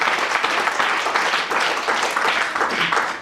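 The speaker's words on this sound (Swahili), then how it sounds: "Pigia Bwana makofi." A church congregation claps loudly and steadily during a sermon. The applause is a dense, sustained roar of many hands close by, with no gaps.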